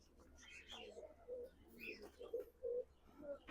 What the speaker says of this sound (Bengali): এই যে এটা মাদা পায়রা আছে।